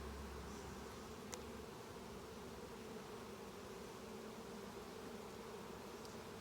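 A dense, steady hum of honeybees fills an open hive during an inspection, close and continuous, with a faint click from handling the frames early on.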